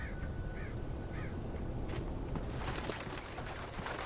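Crows caw in the Alan Wake video game, a few short harsh calls heard in the distance over a dense, steady ambient background.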